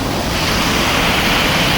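Smokey Hollow waterfall on the Bruce Trail in Waterdown, Ontario, roaring as a steady, loud, dense wash of fast-falling water heard from close by, with no voices.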